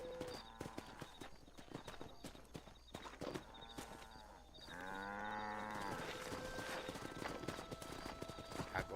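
Hooves clip-clop steadily on horseback in Red Dead Redemption on PS4, with a horse whinny or neigh rising midway over game ambience and occasional sharp footfalls.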